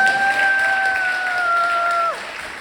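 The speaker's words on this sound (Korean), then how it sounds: "그래서 박수 한번 크게 주고 싶어요." An audience claps continuously at a Korean book talk under a steady high electronic tone that slides downward near the end, after which the clapping carries on more softly.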